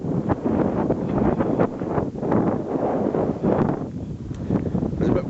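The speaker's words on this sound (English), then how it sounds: "It's a bit windy because I'm uphill here." Wind buffets the microphone on a hilltop in the upper Flinders Ranges at Arkaroola, a loud, steady roar with rumbling gusts that never lets up.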